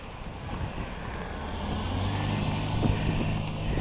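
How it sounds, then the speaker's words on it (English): A car approaches from behind on a narrow rural lane in light drizzle, its low engine rumble building steadily and growing louder toward the end as it draws near. "I hear a car coming up behind me."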